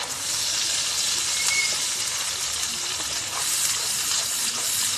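Ground mustard, poppy seed and melon seed paste dropped into a hot oiled pan, giving a loud, steady sizzle and hiss that lasts throughout.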